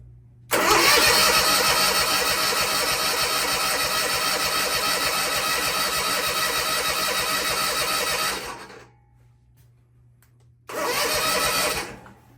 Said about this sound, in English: let's just crank it over and get some oil moving around